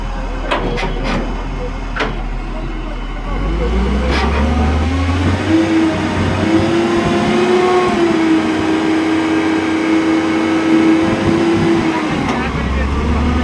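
A mobile crane's engine runs steadily while its hydraulic outriggers are set up at a batching plant. A few sharp clicks come first, then a loud, close, continuous drone that swells after a few seconds, with voices faintly underneath.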